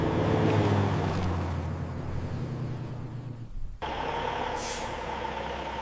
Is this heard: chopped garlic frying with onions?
no